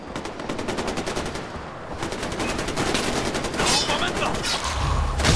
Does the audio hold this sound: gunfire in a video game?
yes